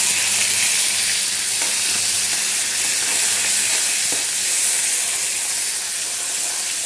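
Chili and garlic paste frying in hot oil gives a steady, close sizzle and hiss that runs evenly through the clip with no talking over it.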